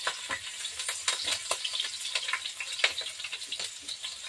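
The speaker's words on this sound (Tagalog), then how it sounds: "At gigisa ko ang bawang." Garlic sautéing in a hot pan gives a close crackling sizzle with rapid irregular pops and spatters throughout, steady and unaccompanied by talk.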